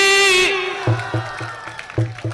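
A sung note at a ghazal recital fades out, and a few audience members give scattered, thin claps in a loose irregular rhythm, close and modest rather than full applause.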